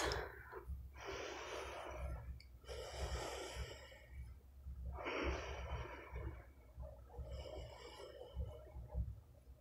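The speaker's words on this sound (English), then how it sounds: "we'll take 5 slow breaths" Slow, deep yoga breaths during a pregnancy-friendly sciatica routine: long airy inhales and exhales in steady, unhurried cycles, close and clear, with no talking.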